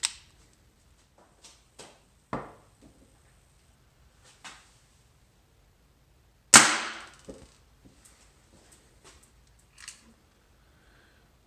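One sharp, loud snap from a Dan Wesson airsoft revolver firing a multi-BB ratshot shell loaded with 6.2 gram BBs, surrounded by sparse quiet clicks of handling in a still room.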